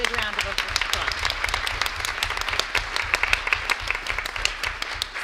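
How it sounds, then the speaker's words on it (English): A school board meeting audience applauds high school players, with sustained crowd clapping, some individual claps standing out sharply, and faint voices underneath. "let's give them a big round of applause."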